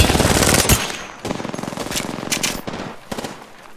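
Rapid automatic gunfire from a round-based shooter video game crackles in dense, loud bursts, broken by brief pauses and sharp single cracks.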